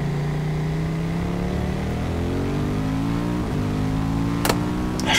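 A KTM 1190 RC8 R sportbike on a racing circuit, its engine note droning close by and climbing steadily in pitch before a gear change drops it and the rise begins again.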